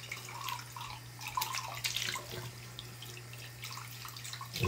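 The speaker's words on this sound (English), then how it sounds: "So I want to run this through some nice warm water" Warm tap water runs steadily into a sink while a chalice is rinsed, a faint, continuous splashing over a low background hum, with no voices.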